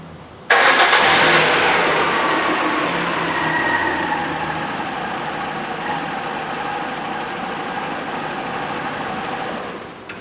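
A 2006 Citroen C4 1.6 petrol engine cranks and catches with a sudden loud start, then settles into a steady, even idle that runs close and clear, with no talking.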